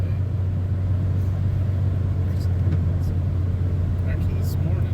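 A car drives along a rural byway in Leitchfield, Kentucky, during a snowstorm, with steady, close low road rumble and engine drone throughout and faint brief higher noises now and then.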